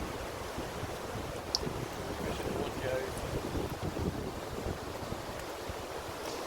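Strong wind in Dolerw Park in Newtown, Powys, Wales, buffeting the microphone with a constant low roar and rushing gusts, faint and steady throughout.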